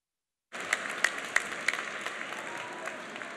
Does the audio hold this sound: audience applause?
yes